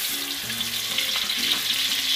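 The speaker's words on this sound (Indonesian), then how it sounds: "Setelah panas minyak, masukkan bumbu yang telah dihaluskan." Ground spice paste sizzles steadily in hot oil in a wok, a constant dense crackle with faint stirring beneath it, in an Indonesian kitchen while mie goreng kangkung is being prepared, with no voices.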